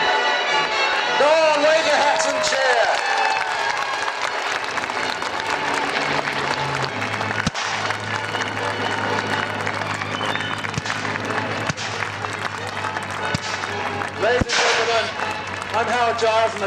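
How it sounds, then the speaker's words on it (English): Open-air crowd at a historical festival at Kirby Hall keeps up long, scattered applause and cheering while waving hats, distant and continuous, with voices and a steady low engine drone beneath. "Go on, wave your hats and cheer!"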